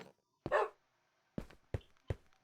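Several dog barks in a Minecraft game, one longer bark followed by three short sharp barks spaced apart, fairly close and clear with no talking.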